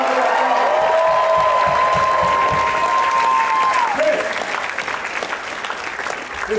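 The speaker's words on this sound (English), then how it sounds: "Give Tom a nice round of applause." Loud, sustained applause from a street-show audience watching a performer on a tall unicycle, a dense wash of clapping that rolls on for several seconds before thinning out slightly, with a long steady tone above it.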